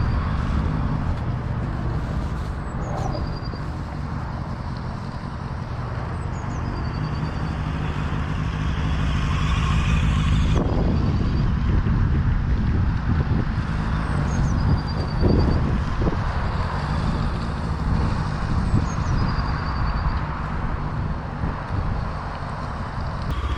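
A larger motorcycle pulls away and rides during rider training, a steady engine drone mixed with wind buffeting on the microphone, rising slightly as it accelerates, with a few brief bumps.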